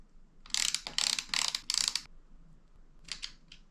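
A socket ratchet clicks while a bolt-on mudguard is fitted to a 2022 Fox 36/38 bike fork. Four quick, close bursts of ratcheting come back to back, then after a pause two shorter bursts follow in a quiet room.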